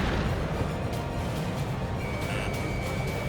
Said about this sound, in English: Strider 1, missile launched